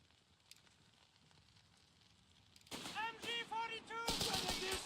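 MG-42 machine gun fire in a video game: a faint, quiet stretch gives way about halfway through to a loud burst of rapid fire mixed with shouted, tonal calls, which continues to the end.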